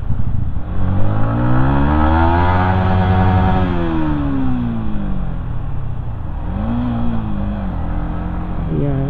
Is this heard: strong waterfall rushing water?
no